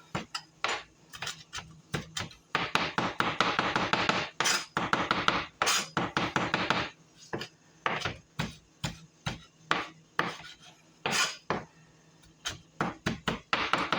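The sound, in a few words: mincing parsley with a knife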